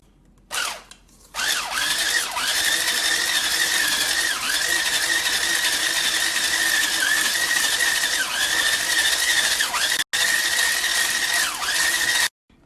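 An electric mixer whisks egg and vanilla into butter for double chocolate chip cookie dough, a loud, steady motor whine that runs continuously for over ten seconds with one brief cut, and no talking.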